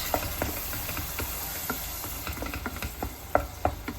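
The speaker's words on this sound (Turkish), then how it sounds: "Şimdi hepsi bir karıştırayım canlar." A spoon stirring tomato sauce in a pan over a low sizzle, with scattered soft scrapes and taps against the pan at an irregular pace.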